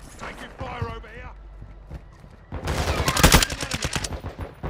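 Rapid gunfire in Call of Duty: Modern Warfare II, a dense burst of loud repeated shots taking up the second half, after quieter talk and game noise at the start.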